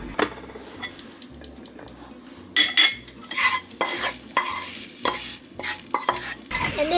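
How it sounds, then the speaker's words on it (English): Tofu, edamame and cooked onion are stirred together in a bowl for tofu hamburger patties, giving repeated wet, squishy stirring strokes in a steady rhythm, close up, with a faint sizzle of frying underneath. "The onion is ready, so I'm going to mix with the tofu and the edamame, and then I'm going to make the tofu hamburger."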